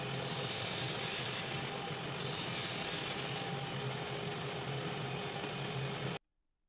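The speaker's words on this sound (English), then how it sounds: "Then I use the disc sander to give the corners a nice surface and make them symmetrical." A disc sander smooths the corners of wooden pieces with a steady, loud abrasive whir and rasping drone, the grinding pitch dipping twice as the wood presses against the disc, then cutting off abruptly.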